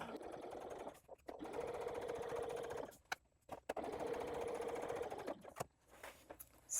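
A sewing machine runs close by, topstitching along the edge of a fabric pouch in two steady whirring stretches, each ending in a short stop with small handling clicks.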